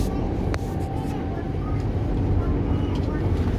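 Train 70131, a Peterborough service from Horsham, passes through Three Bridges or Balcombe with a low continuous rumble and rattle, with scattered clicks and faint voices in the background.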